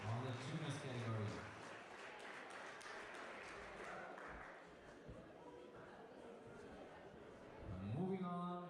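Applause rises from the audience at a European Youth Cup bouldering finals prize ceremony in Graz, honoring the top three junior female climbers. It is a sustained, fairly soft wash of clapping between stretches of an announcer's voice.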